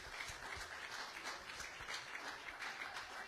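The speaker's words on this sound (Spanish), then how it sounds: "Dile una ofrenda de palmas al rey" A church congregation applauds, sustained dense clapping from many hands at moderate distance, continuous and fairly quiet for a few seconds.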